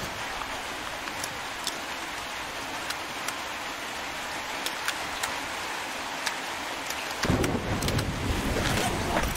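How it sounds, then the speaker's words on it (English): Heavy rain falls in the video game Metro Exodus as a dense, constant hiss, with scattered sharp drop-like ticks throughout and a louder, rougher surge of downpour near the end; no one speaks. "Ooh, it is raining hard now."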